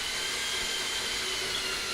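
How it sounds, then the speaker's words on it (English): A power drill fitted with a hole saw cuts into a metal disc, giving a continuous high grinding whine that holds steady at close range with no speech. "It's really hard to judge the appropriate speed to use with the drill."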